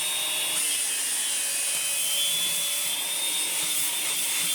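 A Makita cordless vacuum fitted with a cyclone dust attachment (191D75-5) runs steadily up close, giving a constant high-pitched whine and airy rush throughout, with no voices.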